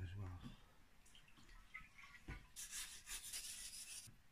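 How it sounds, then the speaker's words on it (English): Scrubbing paint and rust off a motorbike exhaust, with a rough rasping rub that builds into a steady hissing scour near the end, close and fairly quiet. "I'm just going to rub all this paint and that off."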